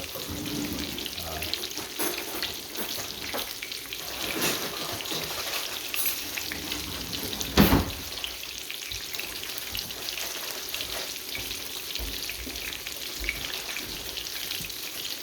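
Green tomatoes fry in hot oil with a dense, even crackling sizzle that holds steady throughout, broken by one brief louder pop midway.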